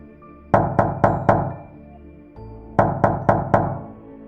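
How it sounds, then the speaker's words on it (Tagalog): Knocking from beneath a bed in a horror story scene: a sharp group of four hollow knocks, a short pause, then another group of four, close and distinct against near silence. "Parang may kumakatok mula sa ilalim."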